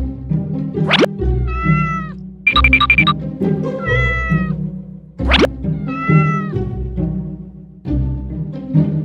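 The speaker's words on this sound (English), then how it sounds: "Oh no! That is a bad kitty." A cat meowing repeatedly and loudly up close, a series of drawn-out, rising and falling meows separated by short gaps, with no talking.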